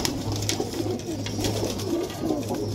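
Pigeons coo in soft, repeated throaty calls, close by and fairly quiet, over a low steady hum.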